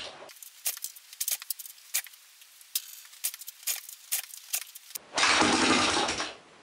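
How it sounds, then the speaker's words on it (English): A Yamaha TT225 motorcycle with no kickstarter return spring is kicked over several times in quick, irregular bursts of mechanical clatter before the engine briefly catches and runs loudly for about a second, then cuts out. "This is kind of tricky to kickstart this thing without a return spring."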